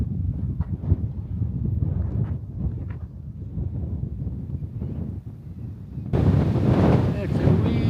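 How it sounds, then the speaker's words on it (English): Strong wind buffets the microphone on a high mountain trail along the Pacific Crest Trail, a steady low rumble with gusts that swell into a louder, hissing roar near the end. "It's a wee bit windy up here"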